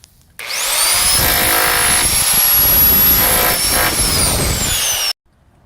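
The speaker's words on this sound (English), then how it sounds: "I'll clear that out with a rotary hammer." A rotary hammer chips concrete from the lip around metal-covered cement pan stairs, running loud and close in one continuous burst of about five seconds with a steady hammering roar that stops abruptly.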